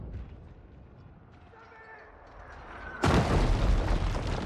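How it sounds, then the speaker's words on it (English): Quiet rumble with faint tones, then a sudden loud booming blast at about three seconds that continues as a heavy, crackling roar, from siege engines firing in the video game Kingdom Come: Deliverance 2. "Yeah, probably siege engines."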